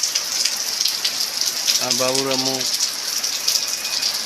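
Heavy rain falls on a village home in a constant loud hiss, and a voice briefly speaks over it midway.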